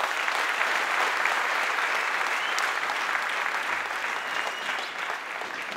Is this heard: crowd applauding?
yes